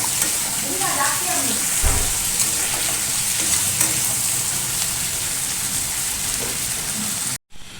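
Potatoes and tomatoes with turmeric and salt frying in a pan give a steady, close crackling sizzle with a brief thump early on, running evenly until a sudden drop at the very end.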